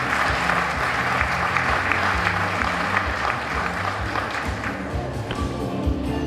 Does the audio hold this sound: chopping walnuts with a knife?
no